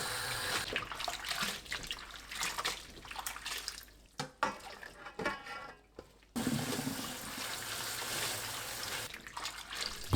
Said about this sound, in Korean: 씻은 무말랭이를 깨끗한 물에 2번 더 헹궈서 맑은 물이 나오게 씻어내세요.